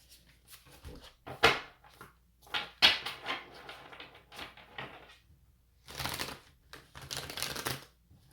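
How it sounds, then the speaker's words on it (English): Tarot cards are shuffled in several quick riffling bursts, close and fairly quiet, with pauses and soft handling noises between them. "just going to do this just to do the shuffles."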